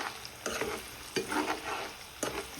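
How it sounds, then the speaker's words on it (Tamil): Ginger and garlic fry in a pan while being stirred, three distinct scraping strokes cutting through a bright, continuous sizzle, up close with no voices. "இஞ்சி உள்ளி இதை பச்சை வாசனை போகும் வரைக்கும் நாங்கள் ஃப்ரை பண்ண வேண்டும்"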